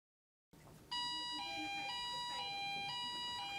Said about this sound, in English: Pull your emergency buzzer.